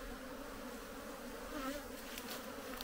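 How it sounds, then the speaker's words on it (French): Honey bees swarm in a dense buzz while being shaken off hive frames, a steady close drone of many wings with a slight swell midway, alone without talking. "Bon, on va secouer les abeilles."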